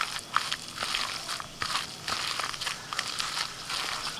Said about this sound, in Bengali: এবার ভালো করে পাট শাকটা ডালের সাথে এইভাবে একটুখানি হাত দিয়ে চেপে চেপে মাখতে হবে।